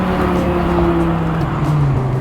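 A BMW M6 with a V10 engine and F1-style exhaust drones at a steady loud idle or cruise, a continuous resonant low hum with a tonal edge, close and unbroken, without talk.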